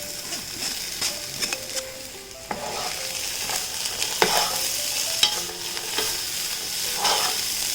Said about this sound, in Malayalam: ഈ സമയം നമ്മൾ ഈ ഡ്രെയിൻ ചെയ്ത് വെച്ചിരിക്കുന്ന ചെറുപയറുണ്ടല്ലോ അത് ഇതിലേക്ക് ഇട്ട് കൊടുക്കാം.